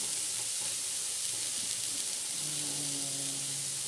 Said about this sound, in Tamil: சேர்த்து ஒரு 5 மினிட்ஸ் வந்து நல்லா வதக்கும்.